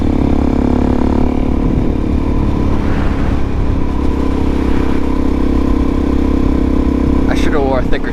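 A Suzuki DR-Z400SM supermoto motorcycle engine idling and droning steadily up close, a loud even low hum that stays constant throughout with a few short rising revs near the end.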